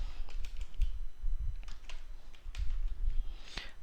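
Keys clatter on a computer keyboard as someone types a short search term, a run of quick irregular taps with brief pauses, close and clear with no talking.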